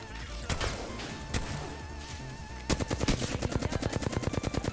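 Apex Legends gunfire: a few scattered shots at first, then a rapid, loud burst of evenly spaced automatic fire, with in-game music and effects underneath.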